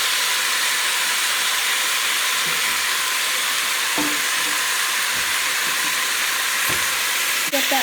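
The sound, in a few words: beef chunks searing in a pan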